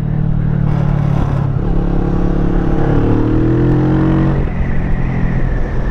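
A Kawasaki Vulcan S cruiser motorcycle leans through a series of corners, its engine droning loudly and steadily with shifting pitch as the revs rise and ease, heard close up with wind rush and no talking.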